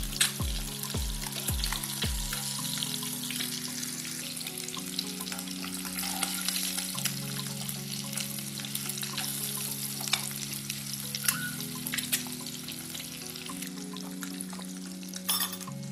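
Eggs fry steadily in a hot pan for red chilli egg curry, a continuous close sizzle with a few soft knocks early on as they are turned over, no talking.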